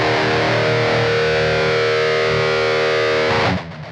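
Heavily distorted metal guitar through a Blackstar Beam pocket amp with a 412 modern cab simulation, medium room and wide stereo, a sustained chord ringing loud and alone before cutting off near the end.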